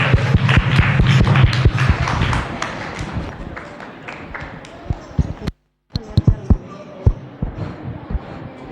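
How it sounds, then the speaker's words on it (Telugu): Children clapping their hands together in a group at a summer Bible school programme, a dense rattle of claps for several seconds that thins to scattered claps after a brief gap, with voices in the background. "క్లాప్స్. చప్పట్లు కొట్టండి."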